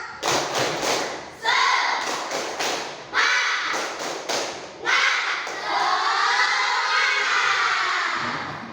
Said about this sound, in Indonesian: Lebih semangat, ayo tepuk semangat.